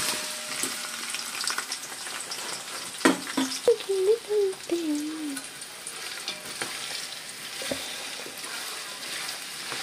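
Chopped onions sizzle in oil and ghee for a chicken biryani, a soft, even frying hiss close by with a few brief clinks of stirring midway, no voices.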